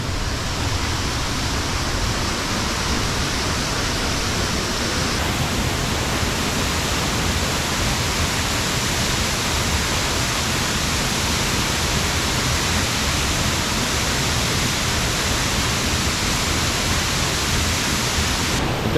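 Ashgill Force waterfall in Cumbria roars in a dense, unbroken wash of falling water, loud and close, steady for the whole stretch with no voices.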